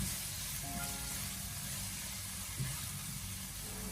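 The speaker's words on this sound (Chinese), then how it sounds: "油热以后再把切好的肉丁放进锅里面，开小火给它不停的翻炒一下" Diced pork stir-fried in hot oil over low heat in a wok, giving a steady, close hiss of frying throughout, with no talk.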